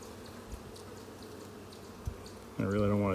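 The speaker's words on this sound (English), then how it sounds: "I have a lot of bees in this hive now." Dense low buzzing of a crowded bee colony fills the clip, steady and close, before a louder tonal hum rises at the end.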